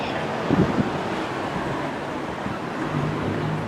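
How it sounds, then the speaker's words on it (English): Wind buffeting a microphone outdoors near a railway station in Llandudno, a steady low rumble with gusty swells, alone and fairly loud throughout. "it's a bit windy"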